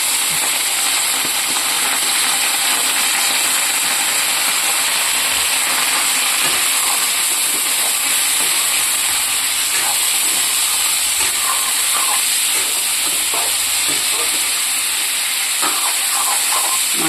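Chicken meat frying in hot oil with browned onions and a little turmeric, giving a steady, loud, broadband sizzle and hiss that runs unbroken throughout with no voices.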